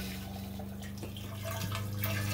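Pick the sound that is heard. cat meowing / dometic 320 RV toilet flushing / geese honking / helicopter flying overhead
dometic 320 RV toilet flushing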